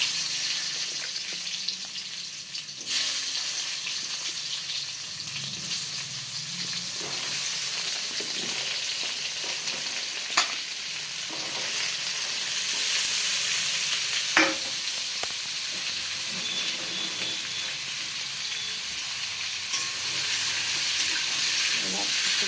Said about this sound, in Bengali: তেলটি গরম হয়ে গেছে। এবার এর মধ্যে দিয়ে দেবো এই কেটে রাখা আমগুলো।